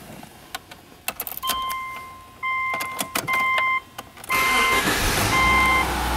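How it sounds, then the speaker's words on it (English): A 2006 Subaru Outback 2.5i, keys jangling and clicks first, then a starter and the engine catching near the end into a steady idle, with electronic chimes beeping throughout. "I'm gonna actually start the car up."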